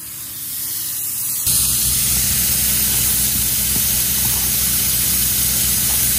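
Open-cell spray foam insulation being sprayed onto a door, a loud, steady, close hiss that starts abruptly and continues without a break.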